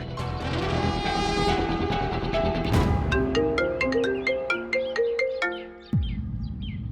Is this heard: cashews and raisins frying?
no